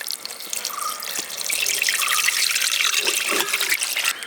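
Water, about 1.5 litres, runs steadily into a vessel while making halwa, a continuous close splashing pour with no talk.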